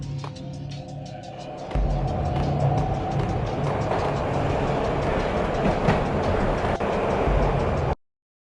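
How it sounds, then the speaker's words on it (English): A train ride in the Max Payne (2001) video game: a steady rumbling roar of the moving train with rhythmic clicking from the rails, starting quieter and swelling louder before cutting off abruptly. "This was my second train ride of the night."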